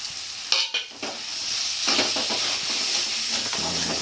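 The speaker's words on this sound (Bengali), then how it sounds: "মটন কিমাটা ঠিক এইভাবে কষে নিতে হবে" Mutton keema stir-fries in a pan, a constant sizzle punctuated by a few sharp scrapes and knocks of the spoon near the start, then steady frying with occasional stirring.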